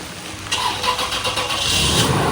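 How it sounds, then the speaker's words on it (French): A car engine cranking and firing back to life after driving through floodwater at Gold Coast, a short starter whir building into a steady, rough idle that grows louder, with no talking. "La voiture redémarre!"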